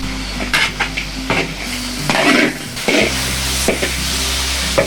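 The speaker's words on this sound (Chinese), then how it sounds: "加入姜和蒜。" Ginger and garlic stir-fried in a wok over a steady low hum, with repeated scraping strokes of a spatula against the metal and a soft sizzle underneath.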